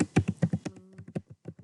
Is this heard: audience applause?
no